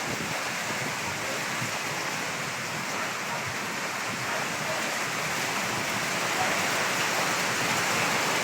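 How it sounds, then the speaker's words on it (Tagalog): Heavy rain pours down steadily in a dense, loud hiss, with a rushing wash of water throughout and no voices. "Malalaki po ang patak ng ulan."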